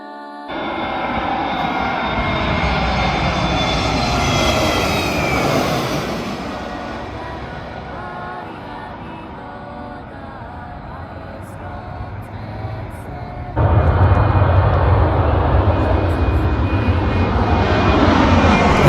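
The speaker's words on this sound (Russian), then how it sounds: "откуда взлетают и где садятся самолеты" Jet airliner roaring low overhead near an airport in Georgia, a loud sustained engine rush that swells, eases, then surges again as another aircraft passes close, with no talking.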